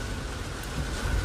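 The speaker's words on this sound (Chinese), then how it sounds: "怪不得下雨了，原来是下雨了" Steady broadband hiss of rain falling outside, heard from inside a car, continuous and fairly loud throughout with no voices.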